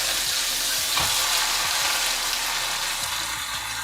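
Chicken pieces for murg musallam, browned on all sides, fry in a pan with a loud, continuous close-up sizzle, broken by a few soft scraping stirs and no voices.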